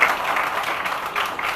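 A school quiz audience claps for team B, a short burst of loud, dense applause from a crowd.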